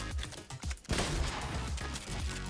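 Rapid bursts of gunfire from Fortnite, several quick shots in a stuttering volley followed by a louder dense spray of fire, close and punchy with no talking.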